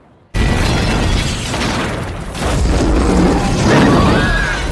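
A bridge is blown up in a film scene: after a brief quiet moment, a loud explosion erupts and rolls on as a sustained, heavy roar of blast and debris.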